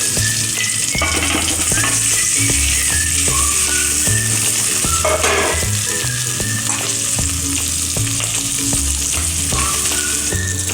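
Pieces of semolina dhokla tossed into a hot pan and stirred, giving a loud, steady sizzle with scraping stir sounds throughout.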